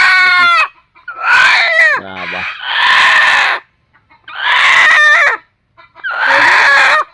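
A native country rooster crowing loudly and close, four long drawn-out calls separated by short pauses, with a brief cluck between the first two.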